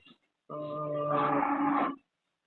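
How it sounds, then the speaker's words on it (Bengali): A single drawn-out cow moo, close and fairly loud, lasting about a second and a half before cutting off. "ওই যে গরু আনছি"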